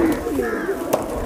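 Male high flyer pigeon, a cross between golden and teddy breeds, gives a soft throaty coo up close, a short rolling call with a brief accent near the end.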